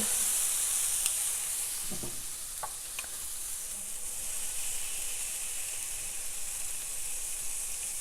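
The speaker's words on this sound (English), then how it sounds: "now it is time to add in those onions again" Steak and onions for a Philly cheesesteak hiss in a frying pan, a steady, loud sizzle throughout, with a few faint clinks from stirring.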